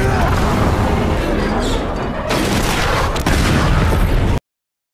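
Bombs thrown at armored vehicles in a film battle scene, loud, dense booms and crackling gunfire, with sharp bursts near 2.3 and 3.2 seconds, cutting off abruptly before the end.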